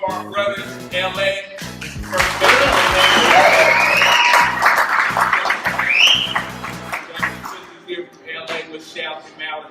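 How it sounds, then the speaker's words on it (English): A banquet audience claps and cheers loudly and steadily for several seconds, then the applause thins, with music thumping underneath and a few voices in the crowd. "Give one more round of applause for our brothers from LA."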